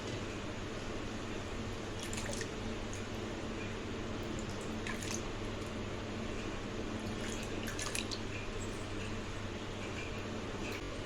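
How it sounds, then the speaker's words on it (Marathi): Steady running water with soft splashing and occasional drips as potatoes are rinsed in a basin of clean water, continuous and fairly close. "परत एकदा बटाटे आपण स्वच्छ पाण्यात धुवून घेणार आहोत"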